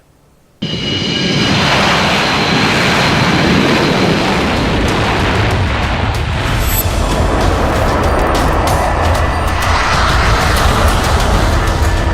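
Fighter jets and helicopters operate at an Indian Air Force airbase such as Tezpur or Hashimara, among them Rafale and Sukhoi jets. A sudden, loud, continuous roar of jet engines fills the air and holds steady, with no voices.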